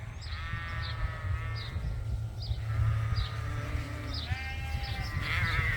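Sheep bleat repeatedly from tall grass on a farm, several wavering calls overlapping at moderate distance over a low wind-like rumble.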